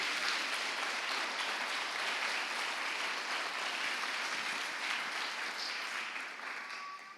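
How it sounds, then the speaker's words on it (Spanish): Steady applause from a church congregation, urged on during a Spanish-language sermon, a dense even wash of clapping that holds for several seconds and tapers slightly at the end. "Dele un aplauso a Cristo"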